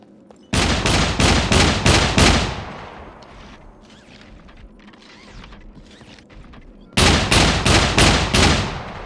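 Two bursts of rapid automatic gunfire in the video game Scum, about six evenly spaced loud shots in each, separated by a quieter stretch of faint mechanical clicks and rattles.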